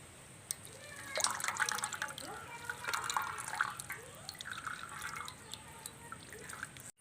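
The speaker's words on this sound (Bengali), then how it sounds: "এবার কিছুক্ষণ ভালো করে জল ঝরিয়ে নেব" Water draining from chhana (fresh cheese) tied in a cloth bundle, quiet irregular drips and trickles with a brief louder patch of running water in the middle, heard close up in a kitchen.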